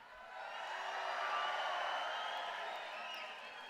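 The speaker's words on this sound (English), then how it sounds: "That sounds like the quiet and well-behaved Moose crowd." Large convention crowd of Moose members in a hall cheering, whooping and applauding together, a steady distant roar of voices that swells and then eases slightly.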